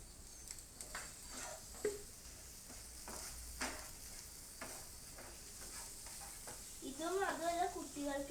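Carrots and beans sizzle faintly in a pan after a little oil is poured in, a soft steady fry with occasional spatula scrapes, and a voice briefly speaks near the end.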